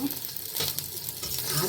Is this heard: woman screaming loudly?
no